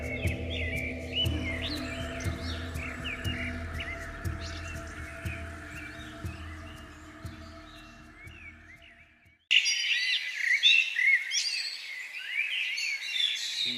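Birds chirp and twitter in a forest, a steady stream of bright calls over a low background that cuts out briefly and then returns with louder, denser chirping.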